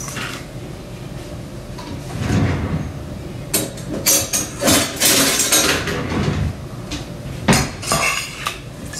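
A metal spoon clanks and scrapes against a cooking pot while bay leaves and vinegar are stirred, with irregular clattering bursts that grow busier toward the end, close and fairly loud.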